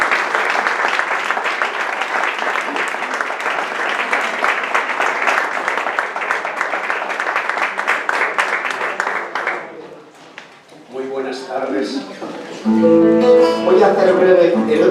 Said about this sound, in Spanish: Un fuerte aplauso para José Luis Pardo.